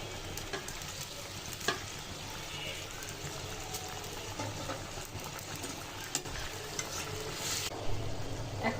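Eggs go into a hot pan with cooked broad bean seeds, bay leaves and cardamom, giving a steady, even sizzle and frying hiss with a few faint clinks. It is close, moderately quiet and constant throughout.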